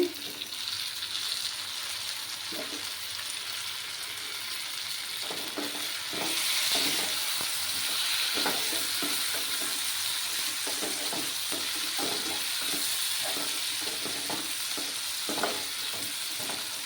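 Diced tomatoes frying and being stirred into a katla fish head masala in a pan, a steady sizzle with repeated scraping stir strokes throughout, close and continuous.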